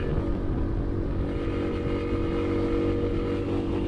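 A 1980s motorcycle is ridden up a hill at full throttle, its engine droning steadily and loudly with a constant low rumble and no change in pitch throughout.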